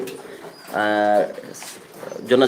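Fancy pigeons coo at a farm in Sylhet, one loud rolling coo standing out for about half a second between softer murmurs, with speech and faint bird sounds around it.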